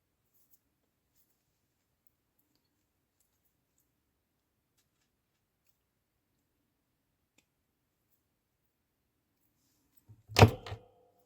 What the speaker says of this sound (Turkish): Hemen anahtarlık aparatımızı takalım.